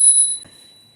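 A built-in bell on an electric scooter sounds a single bright ring right at the start, then fades into near silence.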